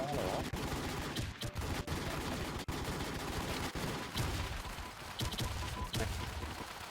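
Rapid gunfire in a video game, bursts of shots repeating close and loud throughout, with voices talking over the shooting.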